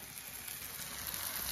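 Ginger-garlic paste fries in a pan with a soft, even sizzle, a faint continuous hiss without breaks and no talking.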